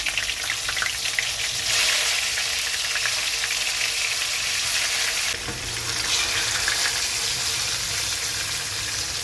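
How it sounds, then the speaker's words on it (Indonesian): Tempeh frying in oil that was already used for cooking, giving a steady, dense sizzle and crackle throughout, close and continuous with no talking. "Lalu menggunakan minyak yang sama, kita goreng tempenya."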